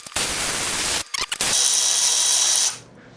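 A compact Milwaukee impact tool working on an engine's cylinder head bolts, a loud close whir and rattling burst, a short stutter of pulses, then a sustained high-pitched hammering that stops abruptly.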